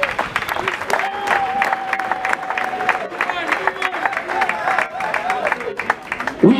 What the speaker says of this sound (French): Voilà pourquoi nous acclamons Jésus-Christ